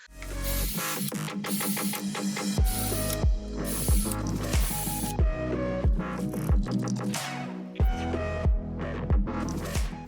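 A drill bores adjustable shelf pin holes in a shelf panel, with repeated short bursts of high-pitched whirring, each rising and falling, and clicking and thumping between holes, close and loud.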